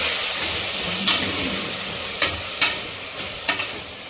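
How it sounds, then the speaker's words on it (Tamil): Tomatoes sauté in oil in a pan, giving a loud continuous sizzle and hiss punctuated by several sharp scraping knocks of a spatula, with no voices. "தக்காளி நல்லா வதங்கணும் பார்த்துக்கலாம்."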